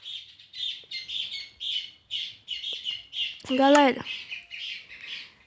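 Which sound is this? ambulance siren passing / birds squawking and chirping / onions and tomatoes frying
birds squawking and chirping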